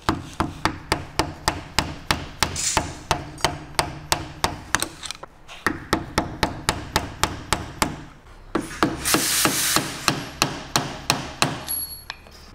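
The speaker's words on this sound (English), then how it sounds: "now is when the screwdriver and hammer technique that we were talking about is gonna come in handy" A hammer strikes a screwdriver against the neck bearing nut of a Harley motorcycle, a steady run of sharp metallic taps at close range, pausing briefly twice before the rhythmic blows resume with more ringing.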